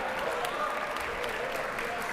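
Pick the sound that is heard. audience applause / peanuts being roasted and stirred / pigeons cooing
audience applause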